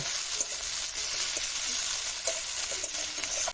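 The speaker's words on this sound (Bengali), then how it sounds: "এবার তেলে জিরে ফোড়ন দিয়ে কিছু পেঁয়াজ কুচি ও কিছু টমেটো কুচি দিয়ে লাল করে ভেজে নেব।" Chopped onion and tomato frying with cumin seeds in hot oil, a dense steady sizzle heard close up with faint occasional stirring, no voices.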